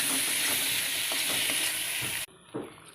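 Ginger and garlic frying and being stirred in a hot pan, a loud, continuous sizzle with repeated scraping strokes, which cuts out abruptly near the end before a single clank.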